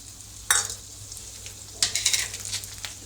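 Chana dal, urad dal and cumin drop into hot oil in a pan with two sharp bursts of sizzling, followed by softer frying crackle and stirring.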